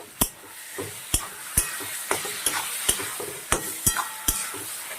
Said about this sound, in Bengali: মাংসটা ভাজার সময় যদি গরম মশলা দেওয়া হয়